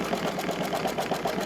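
An embroidery machine sews a satin stitch around an appliqué edge on a tea towel, giving a steady, fast mechanical whir with a rapid even pulse, close and continuous with no talking.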